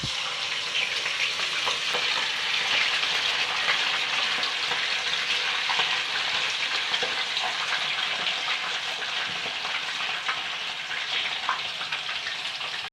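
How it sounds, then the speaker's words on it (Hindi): Fish fries in a kadai with a loud, continuous, even sizzle that holds steady throughout, without any talking. "अब सबसे पहले मैं कढ़ाई में मछली फ्राई करती हूँ।"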